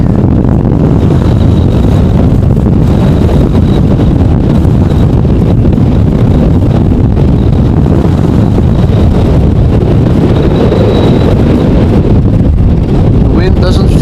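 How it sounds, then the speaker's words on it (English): Strong storm wind roars across Amsterdam Schiphol airport, a continuous loud buffeting rush that batters the microphone for the whole stretch, with a faint distant engine whine rising briefly now and then. "The wind doesn't feel like slowing down yet. Still violently, relentlessly."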